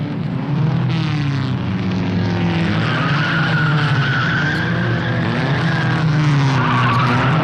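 Race cars of varied types in a 12-hour endurance race at Sebring, Florida, engines roaring loudly and steadily with shifting pitch as several cars pass, no talk.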